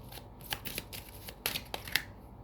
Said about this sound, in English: I'll just give them another shuffle.